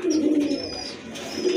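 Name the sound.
pair of khaki pigeons cooing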